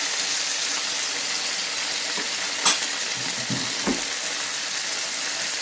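Pomfret fish fries in a pan for a Goan jeerem meerem dish, giving a steady, close sizzling hiss throughout with a couple of soft clinks and stirring bumps near the middle.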